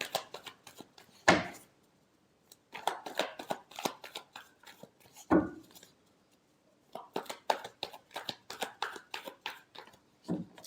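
Tarot cards being shuffled by hand, quick riffling bursts of crisp paper flicks in several rapid runs separated by short pauses, close and fairly quiet.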